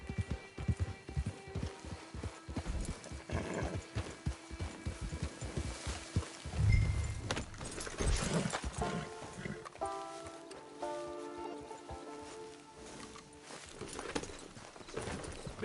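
Horse hooves clip-clop in Red Dead Redemption 2, a steady rhythmic trot near and clear over ambient game sound, with a brief whinny and faint background voices at times.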